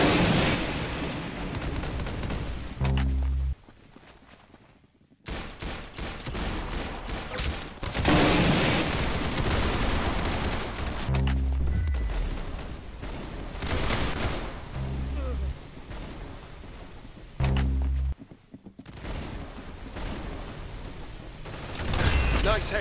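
Gunfire from the Roblox shooter Arsenal comes in repeated bursts of sharp shots and booms over game music, with brief drops to near silence between volleys.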